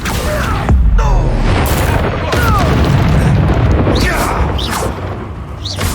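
The Confringo blasting spell from Hogwarts Legacy, loud booming explosions with crackling debris and whooshing spell effects repeating over several seconds.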